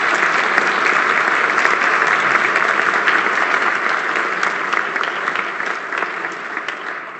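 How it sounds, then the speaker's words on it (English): Warm audience applause for Canada's ambassador to the United States after a question session, a full room clapping in a dense, continuous roar that stays strong and fades slightly toward the end. "A round of applause for the Ambassador."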